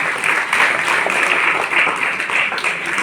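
A steady wash of audience applause fills a village event where free books and pens are handed out to students who passed tenth grade. The clapping stays fairly even throughout, with faint voices beneath it.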